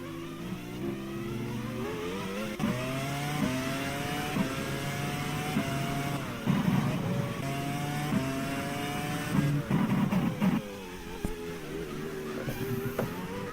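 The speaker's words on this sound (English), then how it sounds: "Accelerating. Heavy braking towards the hairpin." Formula 1 cars in the racing game GPRO roar continuously, their engine pitch rising under acceleration and dropping under heavy braking into a hairpin, loud and sustained throughout.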